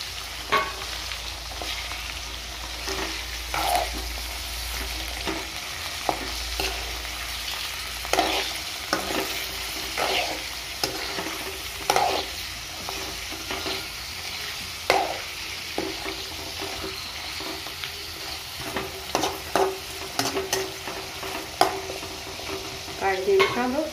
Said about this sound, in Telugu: ఉల్లిగడ్డ కొంచెం వేగినాక కొత్తిమీర పుదీనా వేసి చికెన్ వేసుకోవాలి